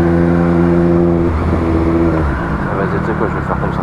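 A motorcycle engine revs up close on the road, holding a steady droning pitch before breaking into rougher, shifting revs that stay loud throughout.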